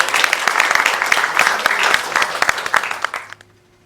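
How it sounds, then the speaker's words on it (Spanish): A crowd applauds warmly for a few seconds, dense steady clapping that fades out toward the end, with a faint voice underneath. "Un aplauso para la licenciada"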